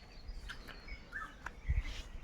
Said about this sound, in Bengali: প্রত্যেকটা পাখির ডাক, প্রতিটা গাছের শব্দ সব কিছু শোনা যাচ্ছে।